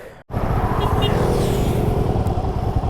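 A Royal Enfield Himalayan 411 BS4 motorcycle engine roars loudly up close, revving with a deep throaty rumble that holds steady after a brief cutoff at the start.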